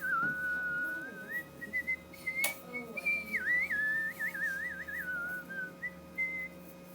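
A person whistles a wavering, warbling tune with the breath drawn inward, thin and airy, close by, with a sharp tap partway through.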